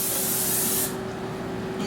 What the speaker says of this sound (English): spraying nonstick spray onto our cooking pan